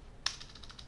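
One sharp keystroke on a computer keyboard, followed by a quick run of lighter taps, close and quiet.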